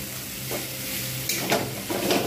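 Egg chow mein with a splash of vinegar being stirred in a frying pan, a steady sizzle underneath with a few scraping stirs of the utensil against the pan near the end.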